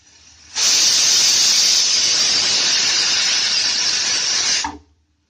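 A pressure cooker on a high gas flame while basmati rice cooks lets out one loud, steady whistle of hissing steam, lasting about four seconds before it cuts off abruptly.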